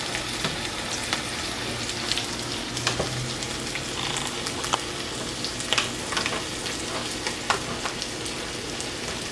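Fish for tacos fries in a pan with a dense, crackly, rain-like sizzle that holds steady throughout, speckled with small pops and occasional faint clicks, close and moderately loud with no talking.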